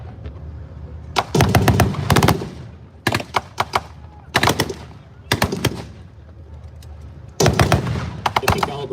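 Bursts of 50 caliber and 30 caliber machine gun fire at an outdoor tank event, loud rapid strings of shots in repeated volleys separated by brief pauses.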